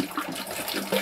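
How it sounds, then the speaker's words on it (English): Warm water splashes and gurgles as it is poured into a container for a dry ice experiment, a brief close watery rush lasting about a second. "Can you put some warm water in it,"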